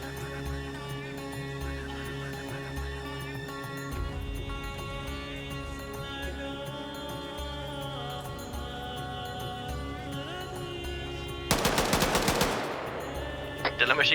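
Sustained automatic gunfire from a machine gunner in a multiplayer military training-op video game, rattling steadily throughout with game sounds and a louder burst near the end.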